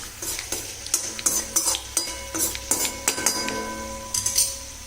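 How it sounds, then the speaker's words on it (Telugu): Green chillies frying in a pan for sweet tomato chutney, a spoon stirring and clinking against the pan in quick repeated scrapes over a soft sizzling crackle, close by. "కానీ చూసారా చటపట్లు ఆడుతున్నాయి కదండి"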